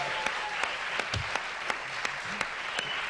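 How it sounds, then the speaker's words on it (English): A small studio audience on a 1983 late-night talk show claps in a thin, moderately distant patter, with a few sharper individual claps standing out. "The home of cheap applause."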